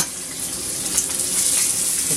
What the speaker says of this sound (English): Now we're going to cook the burger on a hot grill pan.